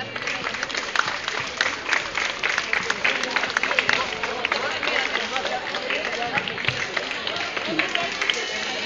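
Warm applause from students and staff at a school achievement-day ceremony welcoming a social studies teacher, a dense sustained clatter of many hands in a large crowd with voices murmuring through it.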